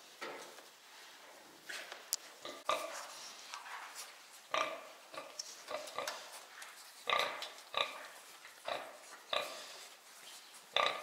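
A sow with newborn piglets after farrowing in a pig pen: repeated grunts and sharp high squeals in irregular bursts, close by, with scuffling movement between the calls.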